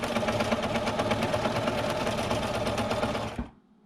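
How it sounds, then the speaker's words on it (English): A sewing machine stitching at a fast, steady pace during free motion quilting of a fabric gift bag, a continuous close mechanical whir and rattle that stops abruptly near the end, leaving near-silence. "If my machine is slow and I move my hands very fast, the stitches are very large."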